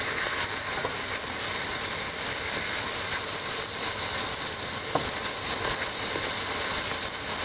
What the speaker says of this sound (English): Time to stir it a little bit.